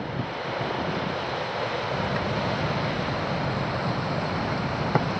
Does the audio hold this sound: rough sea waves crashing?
yes